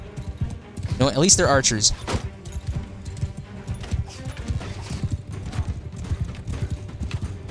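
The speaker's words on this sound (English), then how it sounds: "Oh, that's a lot of horses. That is a lot of horses." Dense clatter of many horses' hooves from a cavalry charge in Mount and Blade 2 Bannerlord battle, a steady rumbling gallop running throughout with a brief whinny and someone talking over it.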